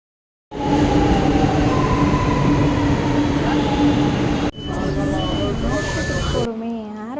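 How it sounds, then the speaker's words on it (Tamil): A metro train rumbles into a station with a loud, continuous roar, tonal whines and wheel squeals rising and shifting as it slows, a brief break midway and brake hiss near the end. "ட்ரெயின் வர ஒரு 7 மினிட்ஸ் ஆகணுங்க."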